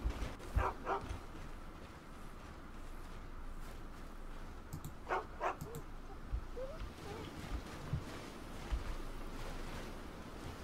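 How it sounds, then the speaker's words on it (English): A dog in Skyrim gives a few short barks and yips at a distance, scattered over soft ambient game sound with faint background noise. "That dog is my pet?"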